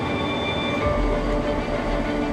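A freight train leaving Yiwu, China rumbles steadily with a deep low drone and faint metallic tones above it, loud and continuous with no talking.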